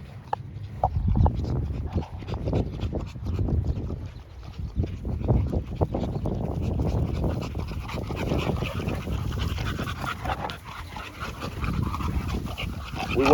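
A working dog pants rapidly and steadily up close, a continuous breathy rhythm over faint background noise.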